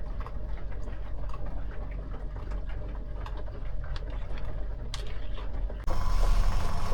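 A washing machine aboard a liveaboard yacht running its wash cycle: steady low mechanical rumble with irregular clicks and ticks, then the hum grows slightly louder and smoother near the end, with no voices.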